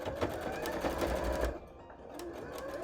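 Sewing machine stitching fabric for puffy pumpkin cosplay shorts: a steady, fairly loud mechanical whir runs for about a second and a half, then drops to a softer, quieter hum.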